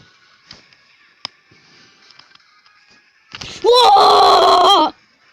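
A person lets out a single loud, sustained shout lasting about a second with a rising then falling pitch, following a stretch of faint clicks and quiet background sounds.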